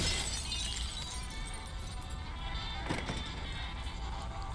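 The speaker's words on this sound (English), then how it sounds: "Break the glass." Glass shattering in the video game Beyond Two Souls, a brief crash and crackle near the three-second mark over a steady, dense game soundscape.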